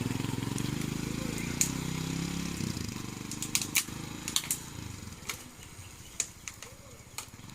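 A Classic 250 motorcycle engine idles steadily with a low, even thump, while scattered clicks and taps sound nearby and people talk over it.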